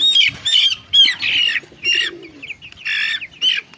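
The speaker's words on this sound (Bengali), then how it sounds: "এই যে কবুতরের ডাক শোনা যায়" Pigeons call close by in short, raspy bursts repeated at a steady pace, with soft low coos underneath and a brief flutter of wings.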